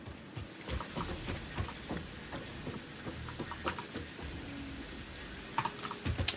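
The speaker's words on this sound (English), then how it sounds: "it's actually raining in game. They added weather systems to the game" Rain pours steadily in a video game with a weather system, a dense patter of drops with occasional sharper splashes throughout, soft and even with no voices.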